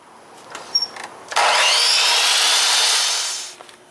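Wood frame pieces for a teardrop trailer floor cut with a power saw, a few light taps, then one loud steady cut of about two seconds that winds down.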